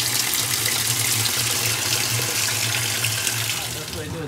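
Continuous rushing gush of water as a washing machine fills with bleach and water for a light load, steady and close, with a low machine hum beneath.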